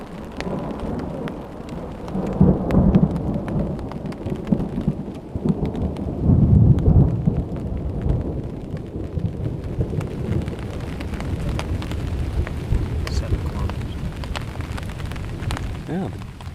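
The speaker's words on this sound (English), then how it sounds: "the time between the lightning flash and the thunder" Thunder rumbles through a steady rainstorm in Algonquin Park, low rolling booms swelling twice over continuous rain patter on surfaces, with faint voices in the background.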